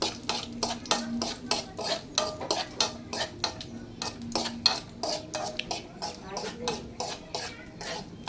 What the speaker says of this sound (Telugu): ఇప్పుడైతే బాగా జీడిపప్పు కూడా వేయించుకుందాం